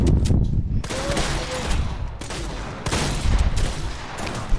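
Heavy shotgun blasts in Fortnite come as loud, booming bursts in two or three clusters, with dense game noise between them.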